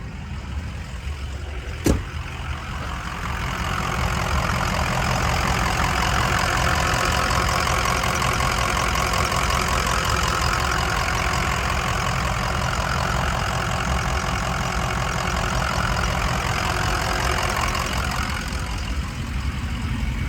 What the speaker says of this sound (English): I'm gonna step out and show you under the hood so you can hear it run